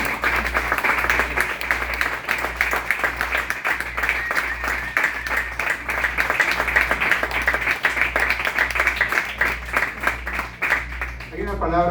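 A church congregation claps for the Lord during a Spanish-language service, a dense, loud and continuous patter of many hands with a steady low rhythmic thump running underneath throughout.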